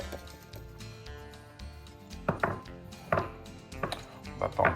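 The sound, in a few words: food processor chopping comté, Beaufort and emmental cheese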